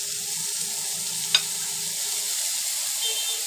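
Chopped tomato, grated onion and peas sizzle in a frying pan with chickpeas for a Bengali mochar ghonto, as a steady, loud hiss throughout, broken once by a brief tap of a utensil.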